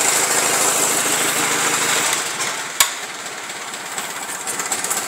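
Old engine idling after a cold start, a loud steady rumbling drone with a sharp knock partway through, then a rougher, more uneven idle pulse toward the end.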